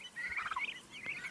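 Homestead turkeys making soft, faint warbling gobbles, several quick trilling calls in close succession, fairly far off.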